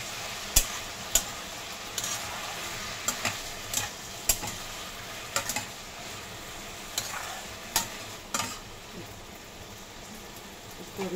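Okra sabzi being stirred in a pan, with a soft continuous sizzle and a series of irregular sharp spatula scrapes and taps against the pan, close and fairly quiet, without speech.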